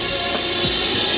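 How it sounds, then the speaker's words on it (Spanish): Constant radio interference picked up by the Horn Antenna forms a dense, unbroken hiss with a faint steady hum and tonal whine, loud and even throughout, with no speech. "Pero la Horn Antenna que utilizan recibe constantes interferencias."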